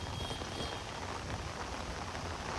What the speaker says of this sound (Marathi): एवढ्या जोरात पाऊस पडतो ना मला काय सांगू